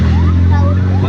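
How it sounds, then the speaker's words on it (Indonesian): An ambulance siren wails in rising and falling sweeps over a loud, low road rumble, heard briefly from inside a moving vehicle on a road trip toward Dumai. "Ada ambulan mah."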